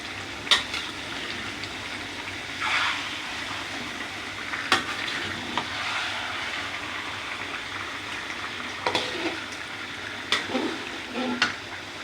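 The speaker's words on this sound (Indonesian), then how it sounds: "Diaduk-aduk, jangan lupa apinya dibesarkan ya." Chicken sizzles in a pan over high heat while a utensil stirs and scrapes it in irregular strokes, with steady frying hiss between the louder scraping bursts.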